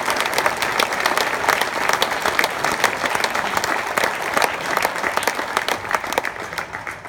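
An audience at a Florida State University athletics campaign launch claps steadily, a loud, dense applause with crisp individual claps that continues evenly and fades slightly at the end.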